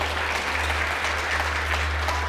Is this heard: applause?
yes